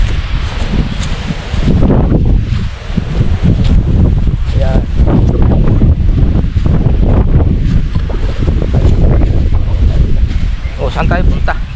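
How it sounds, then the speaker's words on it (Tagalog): Strong wind buffets the microphone at a high roadside viewpoint in Iloilo, a loud, continuous roar with rumbling gusts, while a person's voice is faintly audible beneath it. "hindi tayo makapagpalipad ng drone kasi napakalakas ng hangin dito"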